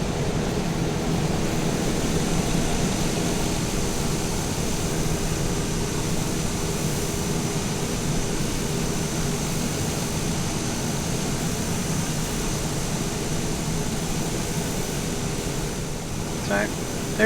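A Pilatus PC-21 turboprop engine in Microsoft Flight Simulator 2020 drones with a steady, even whine and airy roar throughout, constant and unchanging, with a voice talking over it.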